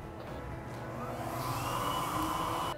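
An STS VJ-628D DTF roll-to-roll printer's conveyor, heater and powder shaker run together as a steady, close machine whir with a rising hum that swells midway and holds, no voices.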